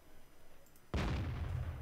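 Artillery fire in the World of Tanks video game: after a quiet stretch, one heavy booming blast hits suddenly and rolls on as a loud rumbling decay.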